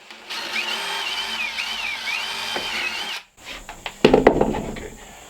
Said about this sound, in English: I'm just going to drill a small hole. Right in the center, 3/4 inch back.